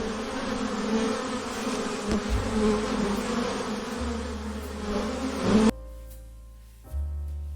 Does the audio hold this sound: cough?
no